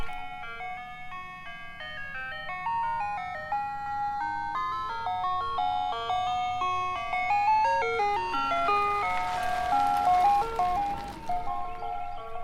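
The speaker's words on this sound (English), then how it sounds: "When was the last time you heard music from a candy truck? Or the ice cream truck, I mean." An ice cream truck on a Kansas back road plays its tinkling chime melody, a bright repeating music-box tune that grows louder toward the end.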